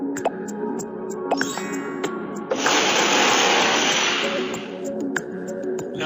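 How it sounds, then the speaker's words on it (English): A power drill whirs into a small wooden block for a few seconds in a physics lab, close and steady, with light clinks and handling noises before and after. "Make a small hole using drill machine."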